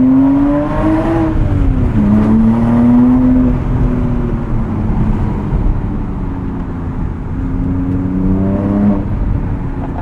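A 2006 Porsche Cayman S with a six-speed manual accelerates in first gear, heard from inside with the windows down; the engine drone rises and falls through repeated revs, loud and steady throughout.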